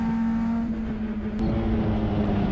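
Onboard engine of a BMW 2002 race car during a Toyo Tires 2.5 Challenge race at Sonoma Raceway, a loud, steady high-revving drone with a strong constant tone, close and continuous throughout with no talking.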